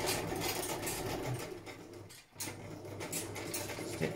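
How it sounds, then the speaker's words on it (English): An electric sewing machine stitching through scrapbook booklets, a fast loud rattling whir that pauses briefly midway and then resumes, close by with no talking. "stitching."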